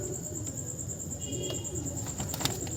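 A female pigeon let go from the hand at a pigeon-flying gathering in Nadia gives a short burst of wing flaps close by, over steady outdoor hiss and a thin high tone, with no talking.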